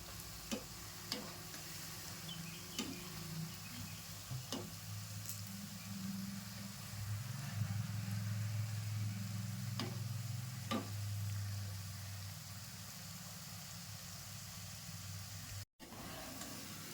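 Cabbage manchurian balls fry in hot oil with a soft, steady sizzle and occasional light ticks, over a low continuous hum.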